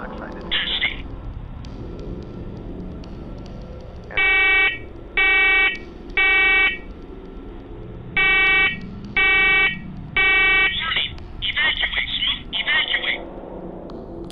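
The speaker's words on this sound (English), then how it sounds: "Keep in mind that this alarm has not gone off since the last time he went downstairs." A smoke detector in a basement goes off with loud clusters of piercing electronic beeps in a repeating pattern, separated by short pauses over a low background hum.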